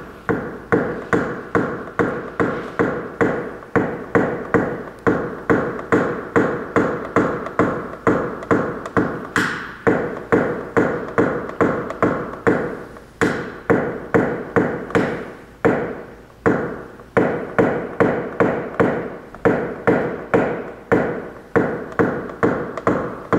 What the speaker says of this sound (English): And if I can blend with my hammer,